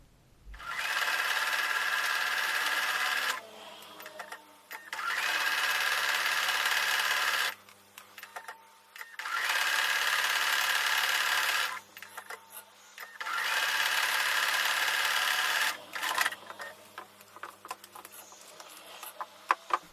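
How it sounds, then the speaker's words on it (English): A sewing machine stitches a quilt block for a Flipped Flying Geese pattern in three steady bursts of a few seconds each, separated by quiet pauses with faint handling noises. No one speaks. "I'm going to take that back over to the sewing machine and repeat by sewing a little bit towards the right of that drawn line"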